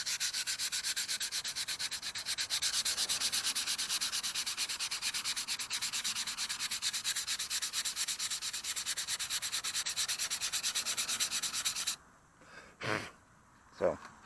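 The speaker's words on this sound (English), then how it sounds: "So, I'm going to sand for a bit." Steady hand sanding of a pony wheel with 150-grit sandpaper, a continuous rhythmic scratchy rubbing close up that stops abruptly near the end, followed by a few breaths or snorts.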